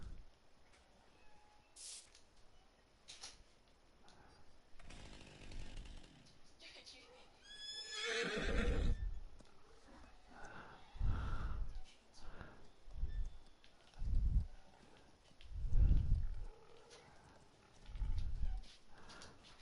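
Horse in the Farming Simulator 19 farm game on PS4: a loud, descending whinny rings out, followed by a series of separated, heavy hoof thuds and snorts spaced a second or two apart, with speech in the background.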